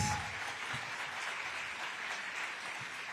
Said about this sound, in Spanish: exacto, aplausos